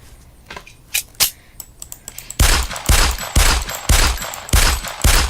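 Favorite modded firearm in a video game, a few scattered sharp shots and clicks, then a run of loud, evenly spaced heavy gunshots, each ringing out briefly before the next, close and without voices.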